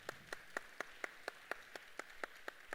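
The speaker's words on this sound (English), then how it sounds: "So just give her a round of applause." Steady, evenly spaced handclaps at a professional-presence talk, about four per second, faint and somewhat distant, with no voices over them.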